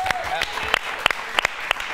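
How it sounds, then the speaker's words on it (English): Small group clapping for a barber at a charity beard-grooming event, a short patter of a few distinct claps close by, with voices mixed in. "Can we get a round of applause?"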